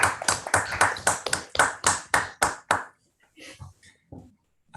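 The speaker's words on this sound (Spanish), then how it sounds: "desmuteamos y le damos un aplauso" Unmuted participants in an online talk clap over a call connection for an invited speaker. About a dozen distinct, evenly spaced claps are followed by a pause with a few faint scattered sounds.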